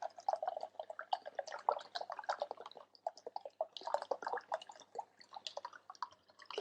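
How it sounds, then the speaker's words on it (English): Coconut water poured into a pan of cooked fruit for a gluten-free tropical trifle, a soft trickling splash with fine irregular drips, faint and close, briefly pausing midway. "So now we're going to pour in the rest of the coconut water to cool that off a bit."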